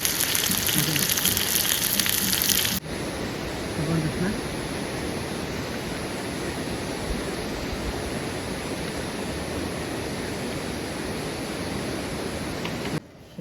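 Rain falls during a night of camping beside a dam reservoir, a dense, unbroken hiss that runs throughout, louder for the first few seconds before settling to a steady wash.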